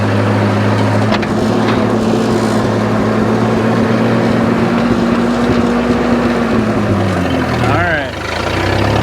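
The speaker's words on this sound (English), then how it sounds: "Third gear. There it is. There it is. We're moving now. It's probably the fastest this Camaro has gone in years." A 1984 Chevy Camaro engine drones loudly and steadily while driving in third gear, with wind buffeting the microphone and a brief spoken comment near the end.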